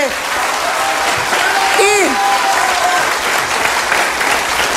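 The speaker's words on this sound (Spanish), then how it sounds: "Un aplauso nuevamente." Steady applause from a studio talk-show audience fills the room, loud and continuous, with a brief whoop or cheer rising partway through and faint talk underneath.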